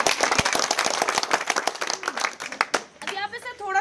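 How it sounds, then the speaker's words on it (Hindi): A crowd claps steadily and briskly during an election-themed discussion in a village, the sharp hand claps carrying on for several seconds before fading as a voice begins talking at the end. "एक बार फिर से तालियां हो जाएं मोदी जी।"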